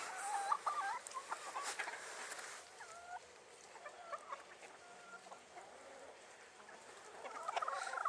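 Chickens cluck and murmur softly nearby, scattered calls coming and going over a quiet outdoor background, growing a little busier toward the end.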